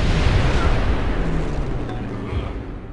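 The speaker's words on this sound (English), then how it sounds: "Let's bombard the defenses" Artillery bombarding city defenses in Civilization 4, a loud booming rumble that starts heavy and slowly rolls off, with low thuds and a faint voice underneath.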